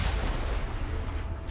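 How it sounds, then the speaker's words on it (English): Tank shell explosions in the Mass Effect video game, a dense rumbling barrage of low booms rolling continuously, loud and close. "Oh, I love tank shells sometimes."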